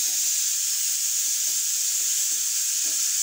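A steady, loud hiss of water poured into a hot pan with chillies and capsicum, sizzling continuously throughout with no voices.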